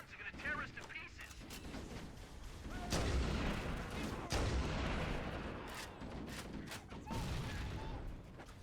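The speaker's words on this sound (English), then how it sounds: "Those stationary guns are gonna tear us to pieces." Stationary Covenant gun emplacements firing in Halo CE, bursts of distant shots and thuds over a dense battlefield din, fairly quiet overall, with voices talking in between.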